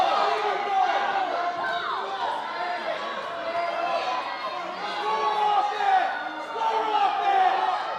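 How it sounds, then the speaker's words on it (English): A crowd at a varsity high school wrestling match cheers and shouts continuously in an indoor gym, the noise rising and falling in waves, with a commentator talking over it. "Crowd really into it for this one."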